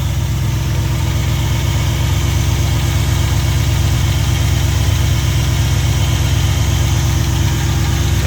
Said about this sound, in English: Motor runs great.